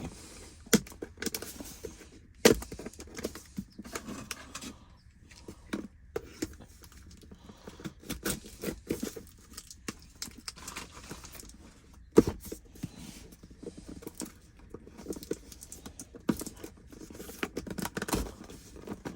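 Packaging of a Hercules brushless impact driver being opened by hand, with repeated crinkling, tearing and rustling in irregular bursts, close and moderately loud, a couple of sharper snaps near the start and middle, no talking.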